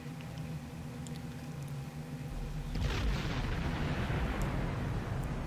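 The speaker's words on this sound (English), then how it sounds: "I had a plant explosion as I came in" A sudden explosion in the Star Trek Online space game, a dense low rumbling burst that starts at once and swells over steady background game ambience, then lingers as a loud, broad roar to the end.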